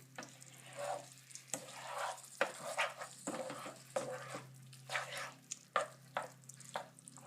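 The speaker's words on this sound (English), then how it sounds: "I'm going to use my spoon, mix this around just a little" A spoon stirs pastitsio sauce in a hot pan, soft scraping strokes over a steady low sizzle, close and fairly quiet, with repeated sweeps and brief taps against the pan.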